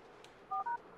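Mobile phone in the racing video game Night-Runners giving two quick electronic dial-tone beeps in close succession, clear and brief over a faint steady background hum.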